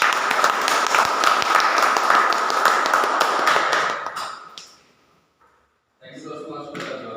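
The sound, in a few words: audience applause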